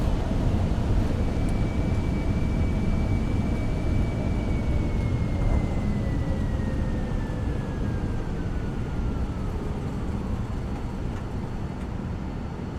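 Cirrus Vision Jet G2 rolling out on a long runway after landing in a flight simulator, a steady broadband engine and rolling roar with a slowly descending whine, loud and continuous throughout.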